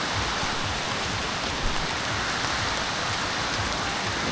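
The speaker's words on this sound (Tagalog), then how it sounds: "Umuulan na siya, guys." Rain falling steadily in Quezon Province, a dense even hiss of drops on surfaces, close and continuous with no voices.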